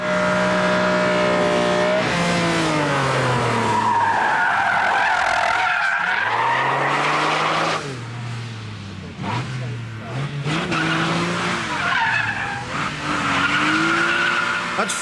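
A Ferrari test car skids with long, loud tire squeal and engine revving that rises and falls over an engine drone, with someone talking over it.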